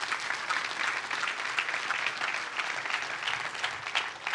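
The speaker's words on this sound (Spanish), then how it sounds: "Denle un fuerte aplauso a Dios por eso." A church congregation applauds during a Spanish-language sermon. The clapping is continuous and evenly textured, with gentle swells, and lasts a few seconds at moderate distance with no talking.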